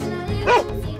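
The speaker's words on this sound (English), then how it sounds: "Dog." A single dog bark, short and close, loud against a faint musical background, used as an animal sound effect in a guessing game.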